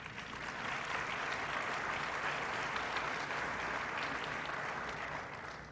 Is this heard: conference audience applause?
yes